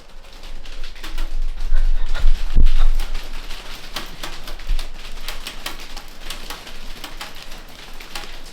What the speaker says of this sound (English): That's ice hail.